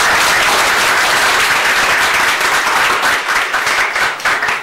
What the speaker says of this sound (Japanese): 最後は拍手で終わりたいと思います。